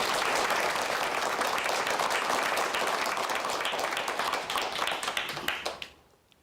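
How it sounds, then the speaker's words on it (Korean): An audience at a televised lecture applauds steadily in welcome, a dense wash of many hands clapping for about six seconds before fading quickly to silence. "큰 박수로 청해 듣도록 하겠습니다"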